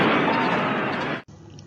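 A loud bomb explosion effect from a film scene: a dense, rumbling blast that sustains for about a second before cutting off abruptly into a faint tail.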